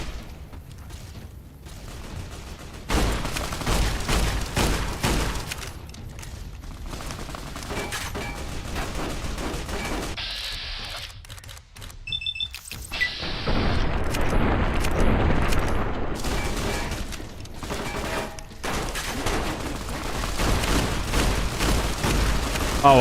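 Heavy video game combat: a grenade explosion among continuous rattling gunfire and booms, loud and dense throughout, with a short quieter mechanical stretch near the middle.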